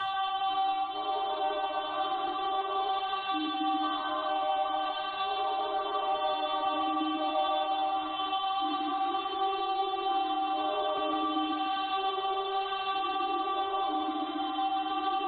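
A Splice vocal chop, pitched up, reversed and beat-shuffled with a repeater, plays as a lo-fi house layer: a wordless, stuttering vocal texture with shifting pitched syllables, muffled and filtered, running steadily and alone without drums.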